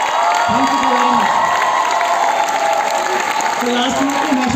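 A crowd at a motivational talk keeps clapping in steady, loud applause, with a few cheers and whoops and some voices rising over the clapping.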